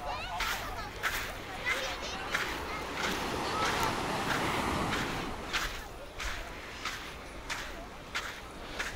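A broad, rushing wash of Mediterranean surf swells and recedes at Cleopatra Beach in Alanya, Turkey, with scattered crunching steps and a person talking over it.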